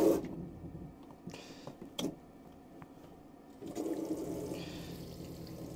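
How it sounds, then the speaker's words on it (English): Hot water running from the kitchen tap of an Auto-Trail Excel 690L motorhome, a soft pressurized flow that starts, pauses and resumes more steadily, faint and close with a few small knocks. "And that is your hot water there coming through."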